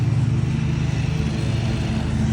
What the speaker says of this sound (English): So we have the 2 backpack blowers and the 1 back bagger.